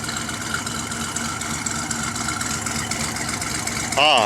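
1971 Buick Riviera engine idling cold after a new exhaust manifold gasket, a steady low rumble that runs evenly throughout, with a brief burst of higher sound at the end.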